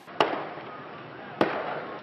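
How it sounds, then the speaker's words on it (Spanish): Two sharp gunshots crack about a second apart at the Ceuta border at dawn, each followed by a short echoing decay over a faint background. "en la frontera del Espigón se escuchan gritos y disparos"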